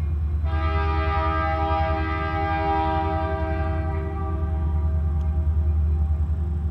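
A freight train hauling iron ore on the Bessemer railroad sounds a long, loud multi-tone horn blast over a steady low engine rumble, the horn holding for several seconds before trailing off.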